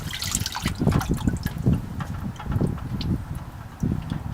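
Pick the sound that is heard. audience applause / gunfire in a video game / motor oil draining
motor oil draining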